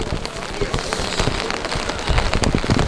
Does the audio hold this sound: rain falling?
yes